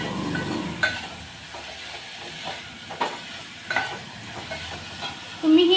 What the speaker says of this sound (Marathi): मटकी सुद्धा आपल्याला तेलावर आणि मसाल्यासोबत छान भाजून घ्यायची.